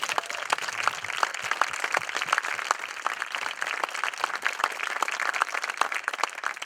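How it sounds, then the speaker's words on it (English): Audience applause at a community garden event honoring contributing businesses, a steady crowd of clapping hands sustained evenly throughout at moderate loudness. "I think we owe them at least one more round of applause."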